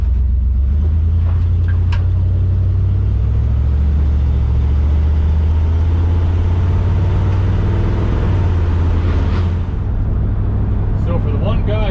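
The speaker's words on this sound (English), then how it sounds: "We're going to go give us a test drive and see how she runs." An old Chevrolet Chevelle, long left sitting, rumbles steadily on a test drive, a loud low engine drone heard from inside the car throughout, with a voice talking over it.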